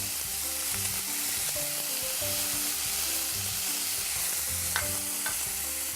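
Onion sautéing in a properly heated pan, with a steady, close sizzle and repeated stirring scrapes throughout, no talking.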